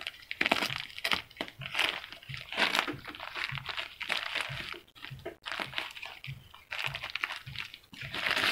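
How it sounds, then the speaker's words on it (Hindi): Close, busy crackling and crunching of plastic packaging as a cheap wireless microphone is cut open, with steady rustles and snaps running throughout and no speech. "तो चलिए इसको हम लोग फटाफट काट लेते हैं।"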